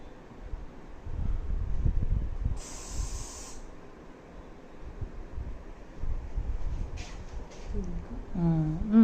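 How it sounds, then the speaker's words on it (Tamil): A short burst of hair spray hisses onto a donut-bun hairdo, about a second long, set among rustling handling noise and faint background voices. "ஸ்ப்ரே அடிச்சிட்டோன்னா அப்படியே நின்றோம்."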